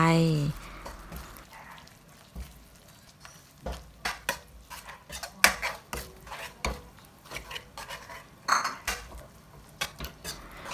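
Pork being stirred into southern Thai curry paste in a pot, with repeated scraping and clinking of a utensil against the pot in an irregular rhythm over soft frying, close and fairly loud.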